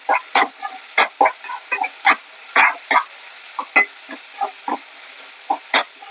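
Tomatoes frying in a pan for Kumbakonam kadappa, with repeated scraping and stirring strokes and soft sizzling in short irregular bursts, close up and without talk.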